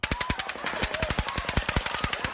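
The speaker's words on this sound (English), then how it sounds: "until bullets started to fly" Rapid automatic gunfire during the Las Vegas mass shooting at the Route 91 music festival: a continuous burst of sharp, evenly spaced shots, loud and sustained without pause, no voices.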